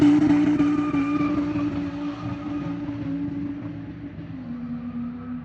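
A 2018 Audi RS3 engine running through a 3.5 inch dump downpipe on 91 fuel, a loud, steady, droning exhaust tone with the pitch easing down slightly, close by and with no talking.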